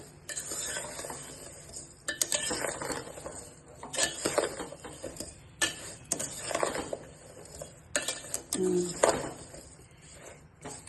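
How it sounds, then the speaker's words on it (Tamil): Sliced mango mixed with sugar is stirred in a bowl with a spoon, giving repeated close scraping and light clinking strokes in an uneven rhythm for about ten seconds. "ஒரு மாங்காய்க்கு போட்டு நல்லா கலந்து விட்டுருவோம்"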